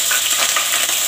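Onion paste and garlic paste sizzle steadily in hot oil for a tomato and snakehead fish curry, a close, continuous bright frying hiss with a few faint clinks and no talk.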